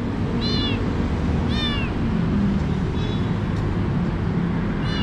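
A small stray kitten at a roadside in Makati, Philippines meows in four short, high, separate cries over a steady roar of nearby street traffic.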